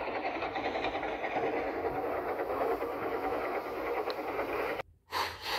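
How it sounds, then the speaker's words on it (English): A train approaching, a steady broadband rumble with faint clickety-clack holding at moderate loudness for about five seconds, then cutting out abruptly near the end. "the train should be coming right about"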